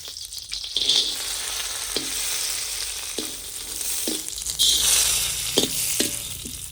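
Dry fruits roasting in desi ghee, a loud continuous sizzle close up with repeated scraping stirs of a spoon against the pan at a loose, regular pace.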